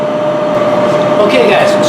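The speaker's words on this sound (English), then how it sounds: "in the background you hear my turbo air fryer preheating for" A GoWise turbo air fryer preheating at 160 degrees for beef jerky gives a steady, loud fan whoosh with a constant hum that fills the whole stretch.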